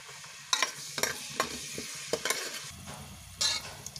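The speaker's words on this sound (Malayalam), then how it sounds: "ഉള്ളി ലേശം ഉപ്പിട്ടിട്ട് ഒന്ന് വഴറ്റാം" Onion and curry leaves sautéing in a hot pan with a pinch of salt for chicken pepper fry, a steady close sizzle broken by repeated scraping stirs and spoon knocks.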